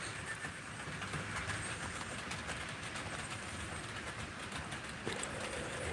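Several model trains run together on a layout, a steady rolling rumble with faint rail clatter continuing throughout at moderate distance, no talking.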